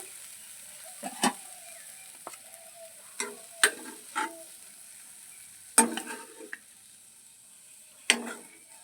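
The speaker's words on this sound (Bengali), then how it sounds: "একটু লবণ আর একটু হলুদ দিয়ে একটু ভাজা করে নেব দু মিনিটের মতন সয়াবিনটাকে ভাজা করে নিয়েছি" Soybean chunks fry in a pan with salt and turmeric, with a faint continuous sizzle and a few sharp stirring scrapes and taps spaced irregularly throughout.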